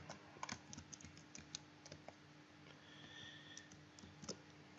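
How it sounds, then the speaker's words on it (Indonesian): Fast, light tapping on a computer keyboard while CSS code is typed, quiet irregular clicks in bursts over a steady low hum. "Ketik aja ya"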